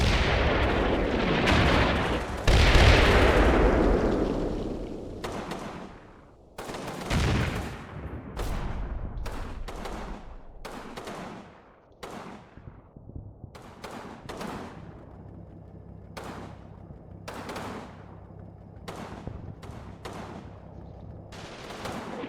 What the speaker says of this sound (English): Direct artillery strike on those guys.